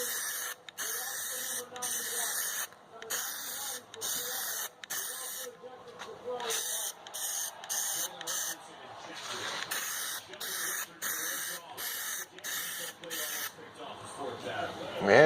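Aerosol can of Plasti Dip sprayed onto the emblems of a 2017 Jeep Compass, repeated hissing bursts of spray with short pauses between them, close and fairly loud.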